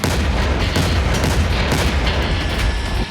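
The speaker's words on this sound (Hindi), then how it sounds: "40 सेकंड के इस वीडियो में जबरदस्त धमाका" A continuous loud, rumbling roar of blasts and booming detonations, dense and sustained throughout with no voices.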